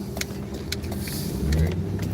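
Cars passing on a road near a stop sign, heard from inside a vehicle as a soft steady rumble that swells toward the end, with a few faint clicks and ticks.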